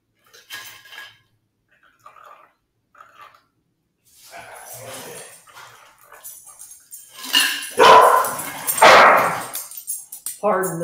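Dogs bark in a home kitchen, a few distant yips early, then louder barking near the end amid clinking dishes and cutlery while a person talks.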